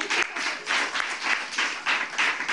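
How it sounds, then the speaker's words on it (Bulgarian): A TV studio audience applauds, a dense burst of many hands clapping together in uneven pulsing waves, loud and close for a couple of seconds. "Ръкопляскания."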